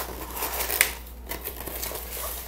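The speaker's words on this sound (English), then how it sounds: "And unwrap our knife." Plastic packaging around a hori hori garden knife being unwrapped, giving close, steady crinkling and rustling with a brief sharper crackle, alone without talk.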